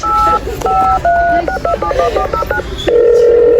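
A rapid series of bright electronic dialing beeps, like a toy phone, ending in a sustained steady tone, with some background noise beneath.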